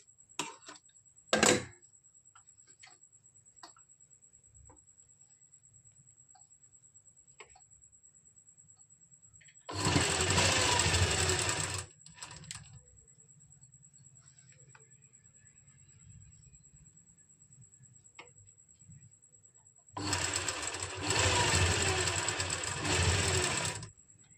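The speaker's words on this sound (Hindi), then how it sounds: "इस तरह से मिलाते हुए यहाँ से सिलाई स्टार्ट कर देंगे" Sewing machine stitching a kameez in two loud bursts of steady whirring, each about two seconds long, separated by quiet handling clicks and a faint constant hum.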